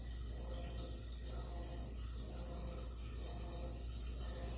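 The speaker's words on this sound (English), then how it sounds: "So I will fill up, I always use the filtered water." Filtered water runs steadily from a tap into a pot at a camping cooking setup, a continuous faint rushing stream with no talking.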